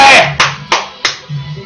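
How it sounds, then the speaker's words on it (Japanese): Hands clap three distinct times, loud and close, spaced evenly in a live kitchen cooking stream where steak is being made, with a voice sounding briefly between the claps. "はい、拍手拍手。"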